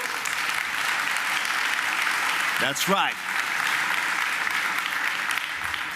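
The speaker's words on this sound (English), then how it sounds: "they deserve a big round of applause" A large audience at an expo main stage in Stuttgart applauds continuously, a loud, dense wash of clapping, briefly overlaid by a man's short spoken remark near the middle.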